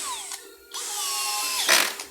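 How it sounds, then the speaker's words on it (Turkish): A power drill drives screws into wooden boards of a large wooden washing machine cabinet, with short whining motor runs rising and falling in pitch and a brief grinding burst, close and clear. "Matkapla kurmanızı tavsiye ederim normal torna vidayla çok sağlam olmuyor."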